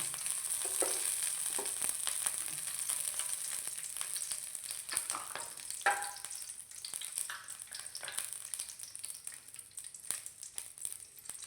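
Curry leaves fry in ghee for a Mangalore-style fish sukka, a steady hiss with scattered crackles and small pops from close by, with no voices over it.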